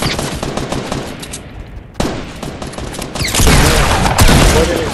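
Rapid automatic gunfire in the video game Fortnite, dense bursts that swell louder toward the end, with a player talking over it at times.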